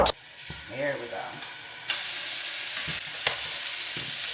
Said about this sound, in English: time to sear these lamb chops